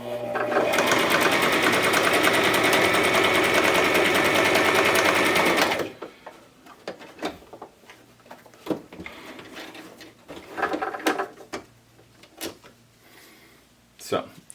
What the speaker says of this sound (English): So to do a zigzag, you just select the zigzag stitch over here, and then same thing.